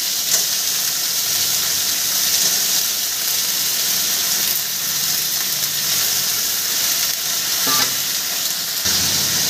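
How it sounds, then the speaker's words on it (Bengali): Moringa drumstick stalks fry with tomato in a pan, giving a steady, loud sizzle and hiss that runs throughout with occasional stirring scrapes. "এবার আমি সমস্ত ডাঁটা দিয়ে দিচ্ছি।"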